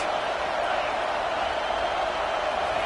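Steady crowd noise in a football video game as the stadium cheers for the defense on a big third down, a continuous broad roar with no distinct peaks.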